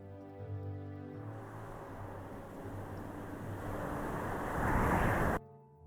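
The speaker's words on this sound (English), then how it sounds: "Strong gust this time." A strong wind gust from a homemade D&D-based video game: a broad rushing roar that swells steadily, peaks loudly and then cuts off abruptly.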